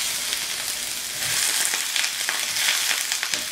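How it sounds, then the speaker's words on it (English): Vegetables sauté in olive oil in a pan for a homemade Chipotle bowl, giving a steady broadband sizzle with scattered crackles and pops, fairly close and continuous, with no talking. "You just want to saute these a little bit."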